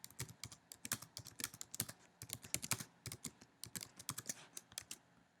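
Rapid typing on a computer keyboard, close and fairly quiet, a steady run of crisp key clicks in uneven bursts with a brief pause near the middle, no voices.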